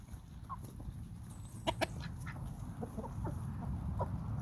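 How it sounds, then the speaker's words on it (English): Peking ducks and a large meat chicken on a homestead farm, scattered clucks and quacks at a moderate distance, a couple of louder calls in the middle, over steady outdoor ambience with no talk. "We have our Peking ducks, and this big meat chicken"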